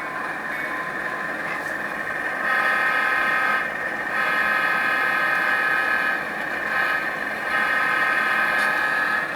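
A model train locomotive bell from a TCS sound decoder rings steadily and loudly, a bright, repeating electronic clang over a constant hum.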